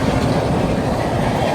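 A Mysore–Hazrat Nizamuddin Swarna Jayanti superfast express passes close by, its steady loud rumble and rhythmic clickety-clack of wheels over rail joints filling the whole moment with no voices.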